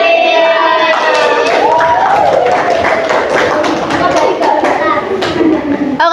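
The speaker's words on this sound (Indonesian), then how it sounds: "Bisa beri tepuk tangan?" Classroom audience of students and teachers clapping for a group presentation, steady dense applause filling the room with voices and chatter mixed in throughout.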